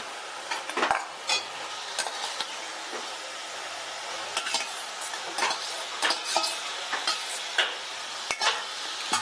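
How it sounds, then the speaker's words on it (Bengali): Pieces of jackfruit are sautéed in spice masala in a pan, with a soft steady sizzle under frequent scraping and clicking strokes of a spoon stirring against the metal, close and fairly quiet. "এঁচোড়টা মশলার সাথে খুব সুন্দর করে আমি কষিয়ে নিচ্ছি।"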